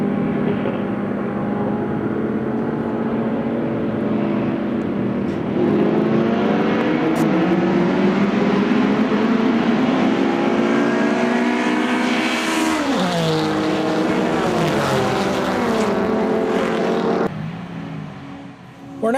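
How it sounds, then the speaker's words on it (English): Group 8 vintage race cars roar off the grid together for the start of an SVRA feature race at Roebling Road, a loud sustained pack of engines rising in pitch as they accelerate away, then fading toward the end. "Grid Chief Wes Clapp sends the Group 8 cars off for the start of the first Edelbrock feature race of the day"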